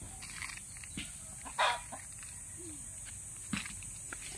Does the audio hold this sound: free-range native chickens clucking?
yes